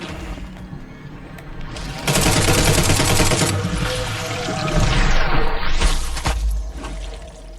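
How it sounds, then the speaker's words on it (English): Loud burst of noise from an explosion in the video game The Sinking City, with crackling, gunfire-like debris rattling through several seconds and no talk over it. "Couldn't get out of the way of that explosion."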